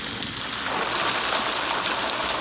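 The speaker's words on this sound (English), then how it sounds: "you want to go ahead and water them in." Steady spray of water from a hose splashing down onto soil and leaves of fruit tree cuttings, a continuous close hiss with no talking.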